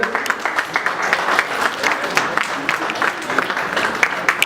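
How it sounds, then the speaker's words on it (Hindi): Steady applause from a crowd at an international astrology convention in Jodhpur, India, dense clapping that continues throughout at an even level. "और अब वक्त आ चुका है, एक तालियां बजा करके स्वागत करेंगे।"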